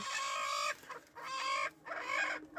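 A small hen brooding a clutch of eggs gives three close, loud clucking calls in quick succession, with short pauses between them and no talking.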